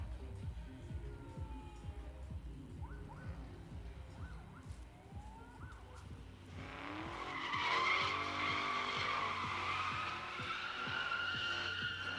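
A Mustang GT drift car warms up at a drift pit, engine rumbling at a distance before tires break into a loud, rising squeal that holds for several seconds over the revving engine.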